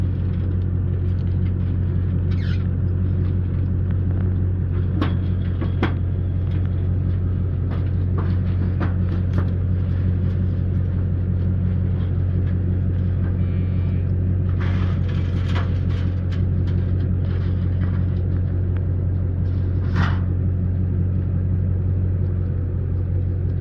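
A pickup truck driving around a farm with cattle pens, a steady low engine rumble running throughout at close range, with faint knocks and rattles scattered on top and no talk.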